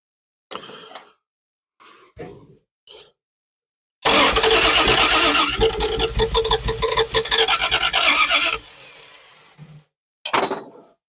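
An old car roughly forty years off the road cranks with a carburetor fed extra gas, a loud sustained churning crank of about four and a half seconds between short clattery mechanical bursts, close up and without speech.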